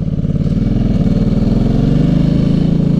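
A Diablo SBK motorcycle engine throbs loudly and close during a ride and tight turn, a rapid steady pulsing drone with slightly shifting pitch and no speech.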